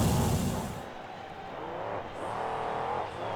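A monster truck engine revs hard during a freestyle run at a monster truck finals event, loud and close, with the roar dipping briefly and then surging again as the throttle is worked.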